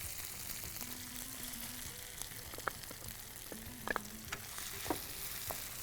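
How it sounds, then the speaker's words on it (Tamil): Mushrooms sautéing in a pan with ginger garlic paste and green chili give a steady close frying sizzle, broken by a few sharp clinks and scrapes of a spoon stirring against the pan. "இது கூட இஞ்சி பூண்டு அரை போட்டுக்கிறோம். போட்டு நல்லா வதக்கிறோம்."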